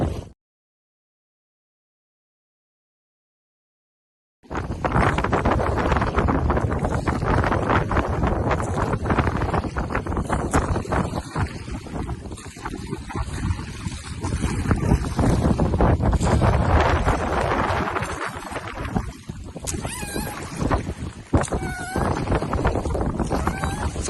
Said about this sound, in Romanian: Dar nu înaintăm deloc din cauza vântului, prieteni.